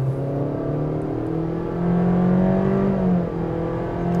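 A 2025 Honda CR-V EX accelerating hard in normal mode, a steady engine drone heard from inside the cabin, the pitch rising and swelling louder midway before easing slightly, with no talking.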